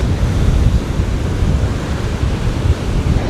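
Sea swell waves rolling in at Southbourne beach during shore fishing, a steady loud low roar of surf with wind noise, continuous and without talk.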